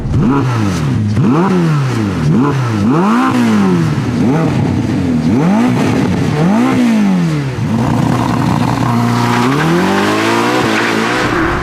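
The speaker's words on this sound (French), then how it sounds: "8e dans mon top 10, la Ferrari SF90 Spider" A Ferrari SF90 Spider supercar revs hard through repeated rising and falling engine sweeps, loud and close throughout, with a sustained high rev near the end and no talking.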